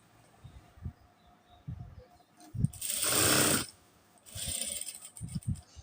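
A sewing machine stitches a high-neck kurti in two short whirring runs, one after the other, between quiet moments filled with soft handling clicks and fabric rustle. No one speaks.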